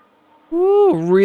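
A Ferrari race car in a racing video game accelerates hard down a straight at the Bahrain Grand Prix circuit, its engine note surging in and climbing loudly, dipping briefly at a gear change and then rising again.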